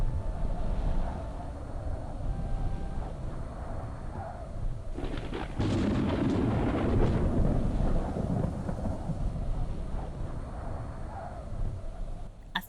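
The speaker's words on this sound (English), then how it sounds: "A thundering stampede of buffalo." A thundering buffalo stampede in the video game Anasazi rumbles as a low, continuous roar that swells in the middle, with faint bird coos over the top.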